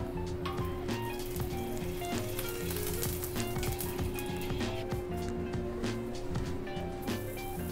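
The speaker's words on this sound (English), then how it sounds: "So I'm gonna ladle a little butter and oil onto the flat top." Butter and oil sizzle on a hot flat-top griddle, a dense steady crackle with rain-like spatter and a faint underlying hum.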